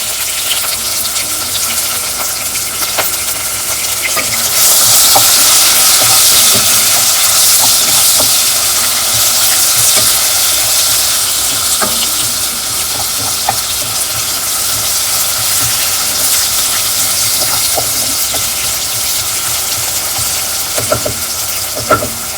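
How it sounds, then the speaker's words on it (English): Onions with added salt caramelize in a pan for a chicken-broth soup, a loud continuous frying hiss that swells partway through, dotted with small pops and stirring scrapes throughout. "And to cook the onions faster and get them caramelized, I'm going to add the salt right now."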